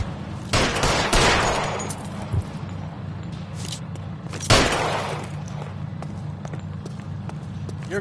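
Gunfire in L.A. Noire: a few sharp shots, some loud and close, over a steady low rumble, with spaced reports across the stretch.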